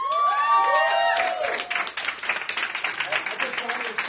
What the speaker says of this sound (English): Give it a round of applause for that, you guys